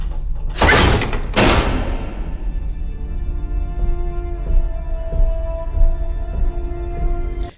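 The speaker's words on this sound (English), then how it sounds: "I love the sound of his heavy feet just echoing" Heavy footsteps from the film 10 Cloverfield Lane: two loud, booming thuds with a reverberant echo land close together, then give way to a sustained, low musical drone.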